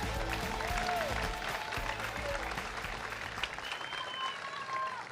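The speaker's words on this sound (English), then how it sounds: "Everybody, big round of applause." A crowd applauds at a professional pickleball championship as a silver medalist is introduced, dense steady clapping throughout with a brief faint voice near the start.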